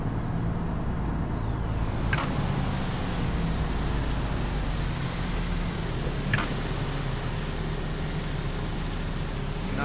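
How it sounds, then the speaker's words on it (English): A heavy truck engine in the driving game Truck World Australia drones steadily at a low, constant pitch, with two short hissing bursts like air brakes breaking through the rumble. "I don't like the engine sounds very much."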